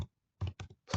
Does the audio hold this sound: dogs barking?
no